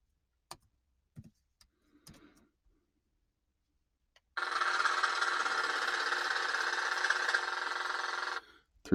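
A jackhammer pounds steadily and loudly for about four seconds in a city setting, following a few scattered faint knocks and clicks.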